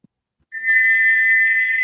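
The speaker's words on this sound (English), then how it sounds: "Gordon's broken whistle will sound like this" A broken steam engine whistle from the Thomas story about whistles and sneezes, belonging to Gordon, gives one loud, sustained shrill tone close by after a brief quiet tap, holding steady to the end with no talking.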